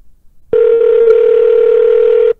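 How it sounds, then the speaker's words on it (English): A steady telephone dial tone, loud and close, drones for about two seconds with a couple of faint clicks partway through while a radio show calls in a guest. "we are going to get Rick on the phone here"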